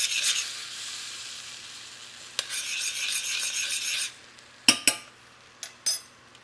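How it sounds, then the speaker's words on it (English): Cocoa powder stirred in a pot to work out dry lumps for a simple chocolate syrup: a steady close scraping rasp, then a few sharp clinks of a utensil against the pot. "I'm going to have to stir out the lumps quickly"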